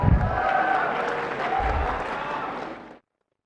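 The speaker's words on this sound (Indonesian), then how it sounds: "Coba berdiri semua mahasiswa saya dan beri tepuk tangan." Students standing and applauding a newly inaugurated professor at an academic ceremony, a full, sustained burst of crowd clapping with some murmuring that cuts off abruptly into silence.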